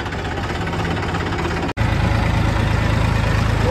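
A tractor engine idles steadily nearby with a low, even knocking rumble, cut by a brief dropout midway before the idle resumes a little louder.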